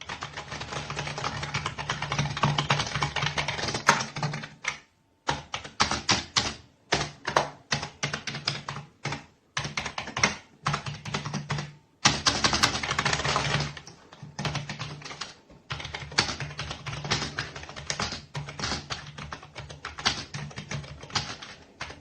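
Typing on a TECKNET gaming keyboard with an all-metal panel and RGB lighting, dense bursts of rapid key clacks close to the microphone, broken by brief pauses, with no talking.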